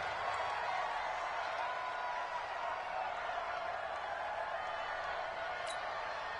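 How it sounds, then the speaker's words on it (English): Crowd noise inside a domed stadium in a football video game, a steady, distant roar of massed voices with no clear peaks, running alone throughout. "The crowd here in the Dome making things difficult."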